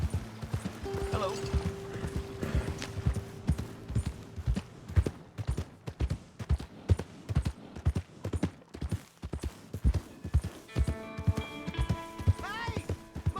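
A horse's hooves clip-clop steadily in Red Dead Redemption 2. The beat is even and moderately close, and a brief whinny-like call and a faint voice come near the end.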